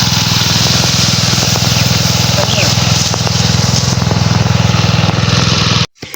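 A grass cutter's small engine runs loudly and steadily with a buzzing drone throughout, cutting out abruptly near the end.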